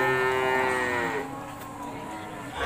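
At a 2020 cattle sale in South Kalimantan, a cow gives one long, close, drawn-out moo that fades off, followed by quieter background murmur.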